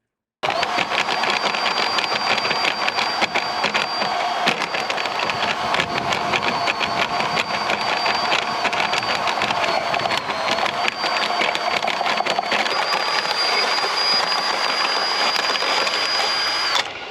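Drain cleaning machine cutting inside a rainwater gully pipe, a loud continuous mechanical whirr with a high whine and rattling grind, steady throughout with no talking.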